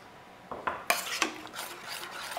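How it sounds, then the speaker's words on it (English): A spoon scraping and knocking inside a pot as butter chicken sauce is stirred toward a boil, a few sharp metallic clinks followed by continuous rasping, close up with no voices. "So I'm stirring it a lot."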